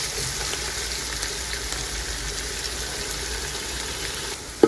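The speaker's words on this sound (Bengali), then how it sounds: "এখন দিয়ে দিব পেঁয়াজ কুচি। পেঁয়াজ একদম লাল লাল করে ভেজে নেব।" Chopped onions frying in oil in a pan until deep red for chicken and bhuna khichuri, giving a steady close sizzle that holds throughout with no talk, ending in a brief clatter.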